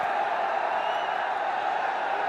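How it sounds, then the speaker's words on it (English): A cricket crowd roars for a half century, a steady, dense wall of cheering and whooping from a large stadium audience that holds without a break. "Loud cheer for the half century on the board."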